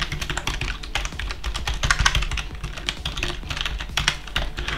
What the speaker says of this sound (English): How fast can you type?